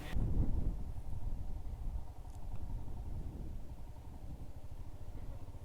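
Motorcycle engine idling at a high-altitude mountain pass in Ladakh, a steady low throbbing rumble close by with wind buffeting the microphone, louder for the first second then settling, no speech.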